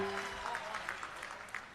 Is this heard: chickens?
no